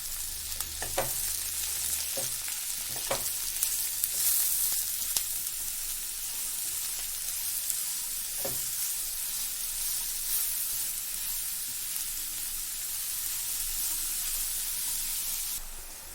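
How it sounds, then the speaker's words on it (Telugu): Mushrooms and onions fry in oil in a pan, giving a steady close bright sizzle and hiss with a few soft clinks and stirring knocks early on. "వేసుకున్నాక ఒక 2 మినిట్స్ ఆయిల్లో బాగా ఫ్రై చేసుకుందాం వీటిని"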